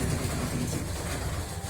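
A rebana frame drum is played to imitate a train locomotive, giving a steady, dense rumbling patter that runs evenly and fairly loud through the whole short stretch.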